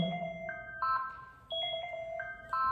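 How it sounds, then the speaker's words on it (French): A work phone ringtone plays a repeating melodic tune of bright electronic tones, stepping up and down in a steady rhythm, loud and close with no talking over it. "Désolée, c'est le téléphone du travail."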